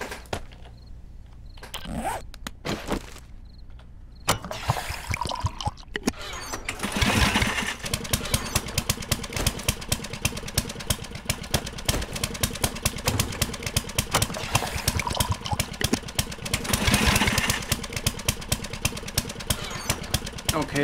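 An auger drill runs in the game 7 Days To Die, spinning up into a continuous buzzing, rattling engine whine that persists loudly with rhythmic grinding pulses, after a few brief clicks and clatters at the start.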